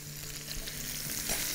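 Onions frying in ghee for a trotters tagine, a brief close crackling sizzle with light stirring and a slight rise in intensity, with no talking.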